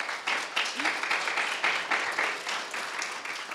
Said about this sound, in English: Another round of applause for him for coming out and sharing a little bit about his work.